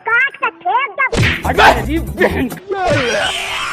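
A dog barks and yelps amid a chaotic scuffle of thuds and squeals, with a voice speaking at the start.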